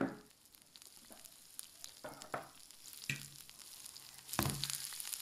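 Cactus ice cream fries like meatballs in a pan, making a faint, patchy sizzle punctuated by a few louder scraping or stirring bursts, with no talk.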